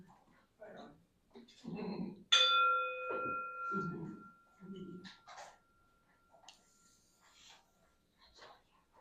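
A chiming bowl is struck once to open a church service, ringing out with a clear sustained tone that slowly fades, while people speak quietly before and after it.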